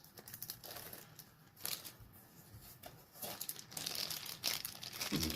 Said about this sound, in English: Let me get this unwrapped.